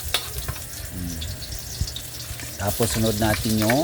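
Onion sautés in hot oil, a steady sizzle close by with stirring, while someone talks over it in the second half.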